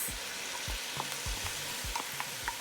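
Peas tipped into a pot of rice that is sticking to the bottom, giving a steady sizzle and frying hiss with repeated short scraping knocks of stirring, close and continuous, with no voices.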